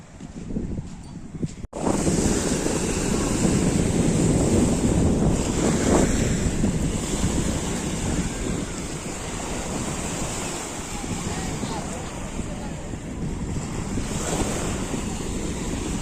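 Tyrrhenian Sea waves breaking at Torvaianica beach, a loud continuous roar of surf with strong wind buffeting the microphone, rising into a fuller rush after a brief quieter opening.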